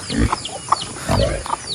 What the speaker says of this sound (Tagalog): Ayan mga baboy natin o.